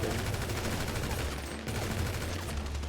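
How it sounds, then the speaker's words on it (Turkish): Dense, continuous gunfire during a shootout in the GTA V video game, a steady wash of overlapping shots that stays loud from start to finish. "Burada çatışma var"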